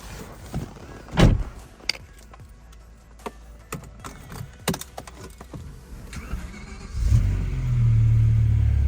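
A few clicks and a door thump sound in a quiet space, then a BMW M6 V10 engine with a new exhaust fires up and settles into a deep, steady rumble.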